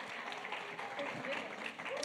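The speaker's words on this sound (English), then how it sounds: "Please give him a huge round of applause." An audience at a Top Women EmpowHer event in Cape Town claps as a person is called up on stage, a dense, moderately loud ripple of applause with voices mixed in.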